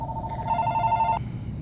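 A telephone rings nearby with a steady electronic trill that lasts just over a second and then cuts off into a fainter tone, against a quiet room hum.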